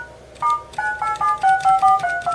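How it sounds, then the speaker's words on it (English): Sonar effect from an Atari Vox+ speech module, a rapid series of about eight short electronic beeping tones with a bright, tonal quality, heard close and alone. "Sonar."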